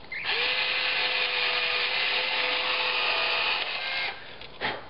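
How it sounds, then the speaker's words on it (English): A power drill drives a pre-drilled hole into wood for a homemade star tracker, whining at a steady pitch for about four seconds before stopping, loud and close with no talk. "I'm just going to do a pre-drilled hole."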